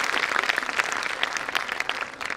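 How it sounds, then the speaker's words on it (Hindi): An audience at a university national seminar inauguration claps warmly for a former student, a close, lively burst of applause with individual claps standing out, continuing throughout. "जोरदार तालियां उनको भी मिलनी चाहिए।"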